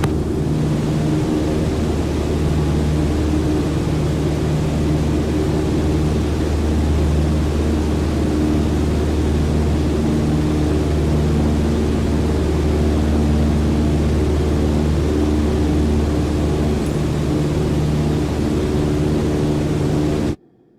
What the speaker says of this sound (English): On the Cessna 152, you need full power to climb effectively.